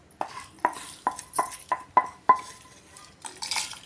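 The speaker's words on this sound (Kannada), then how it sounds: "ಅದನ್ನೀಗ ಪೌಡ್ರ್ ಮಾಡ್ಕೊಳಕ್ಕೆ ಮಿಕ್ಸಿ ಜಾರ್ನಾಗ ಹಾಕ್ಕೊಳಕತ್ತೀನಿ ರೀ" Roasted poha flakes going into a mixer grinder jar: a quick run of six sharp, close clinks and taps, as of a spoon against the jar, followed by a softer rustle.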